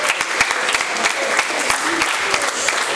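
A rap battle crowd applauds and cheers loudly, a dense wash of clapping with scattered shouts that holds steady throughout.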